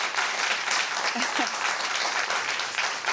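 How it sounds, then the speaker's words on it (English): A studio audience at a televised high school quiz show applauds under the lead of the Blake High School mascot, Benny the Bengal, with a steady, dense round of clapping that continues at an even level. "Benny conducting the audience for that applause."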